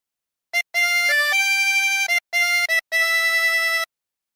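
A harmonica plays a short phrase of O Christmas Tree, with clear breathy notes in several bursts separated by brief gaps, close and alone with no talking.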